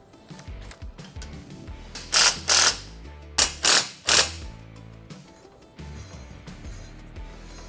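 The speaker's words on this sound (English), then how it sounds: "Start these by hand and then go in and tighten them up with a wrench." Ratchet with a 13mm socket tightening small bolts on a GPS drift quad frame, several loud, close bursts of rapid clicking in the middle, with quieter handling noise before and after.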